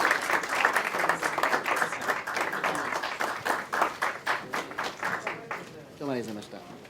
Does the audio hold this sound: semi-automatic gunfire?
no